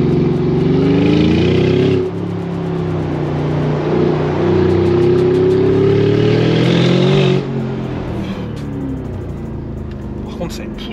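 A Mercedes G700 Brabus engine drones loudly with a rising and falling rev, easing off about two seconds in, climbing again, then dropping back to a lower, steady hum near the end.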